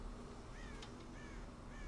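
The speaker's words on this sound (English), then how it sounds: "God damn crows!" Crows caw in the Red Dead Redemption video game, a few harsh calls standing out clearly over a steady ambient game background.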